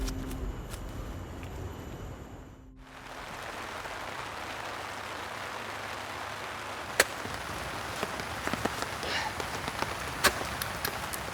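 A steady hiss of falling rain fills the whole stretch. It drops out briefly near the start and then returns, with a few sharp taps and knocks scattered over it and no one speaking.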